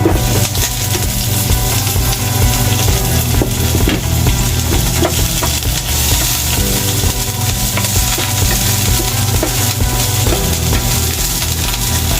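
Onions frying in a pan, a loud continuous sizzle with crackles and occasional clicks of stirring throughout, close and unbroken by speech.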